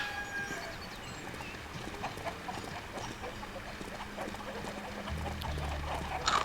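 Chickens cluck in Shrek 2 on a farm level, soft, busy, and continuous, with a low hum and a rising thud near the end.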